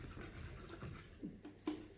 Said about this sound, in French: Voilà, je mets l'eau.